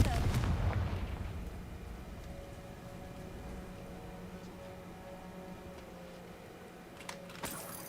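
In the game Hogwarts Legacy, a Confringo fire spell bursts with a booming blast at the start that rumbles and fades over a second or two, leaving a quiet hum and a few faint clicks afterward.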